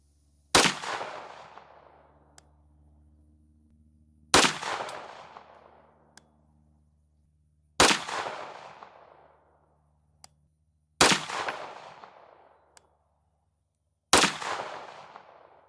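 Canik 9mm pistol with a 5.2-inch barrel firing Speer Gold Dot 124gr +P rounds, five sharp loud shots spaced a few seconds apart outdoors, each with a short ringing decay.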